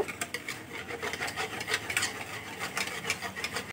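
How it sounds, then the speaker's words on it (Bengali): Semolina cake batter is mixed in a bowl, a continuous close rubbing and scraping with quick repeated strokes at a moderate level and no talking. "সুজিটা দিয়েও আমি খুব ভালো করে মিশিয়ে নেব।"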